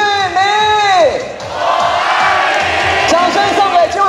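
A big baseball stadium crowd at a Fubon Guardians home game roars and cheers for the MVP Kuo Chun-lin, with loud sustained shouting and whooping that dips briefly mid-clip, then swells again with rising cheers.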